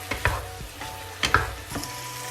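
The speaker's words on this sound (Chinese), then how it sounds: "咱们不断的翻炒，将汤汁收浓。" Garlic eggplant is stir-fried in a wok as the sauce reduces, with a spatula scraping and clanking in a few quick strokes over a soft sizzle.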